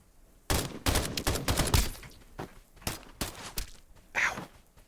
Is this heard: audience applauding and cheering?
no